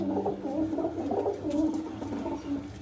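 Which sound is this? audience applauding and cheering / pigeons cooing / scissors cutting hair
pigeons cooing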